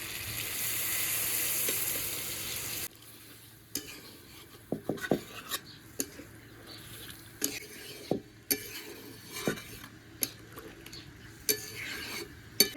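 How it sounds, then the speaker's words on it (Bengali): Chicken curry meat frying in a pan, a steady loud sizzle at first, then quieter frying broken by repeated sharp clinks and scrapes of stirring. "খুব ভালো করে মাংসটা আমি কষিয়ে নিয়েছি একদম কষা কষা করে নিয়েছি"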